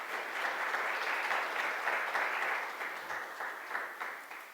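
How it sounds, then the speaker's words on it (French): Warm, continuous applause fills a business awards gala in Senegal, a broad crowd clapping steadily at a moderate, slightly distant level that eases off toward the end, with no talking. "je vous prierai de faire un tonnerre d'applaudissements pour ces femmes entrepreneurs battantes"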